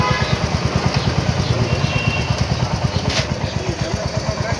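Royal Enfield Hunter motorcycle engine running after a chain service, with a close, steady rhythmic idle thump and even exhaust pulses throughout.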